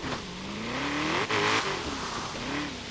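A Ford Mustang GT350R in Forza Horizon 3 revs hard while drifting on stock tires, the engine note climbing and falling with a brief tire squeal, close and steady with no talking.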